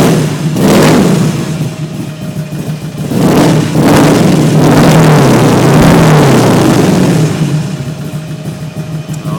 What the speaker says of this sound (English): Let's get a little shout